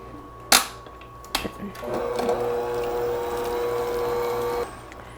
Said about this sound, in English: I'll turn off my mixer and scrape down the sides.